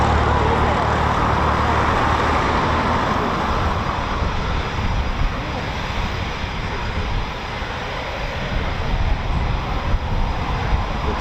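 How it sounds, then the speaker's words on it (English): Eurofighter Typhoon FGR4 jets with Rolls-Royce EJ200 engines spool up at an RAF station, giving a steady, broad roaring whine that holds loud and even throughout, with faint traffic-like rumble beneath. "All we can hear now is spooling EJ200, Rolls-Royce EJ200 engines."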